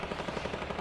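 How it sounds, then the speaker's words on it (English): Gunfire in the video game Getaway, a fast continuous rattle of automatic shots, moderately loud and unbroken over a brief stretch. "Oh shit, somebody's shooting."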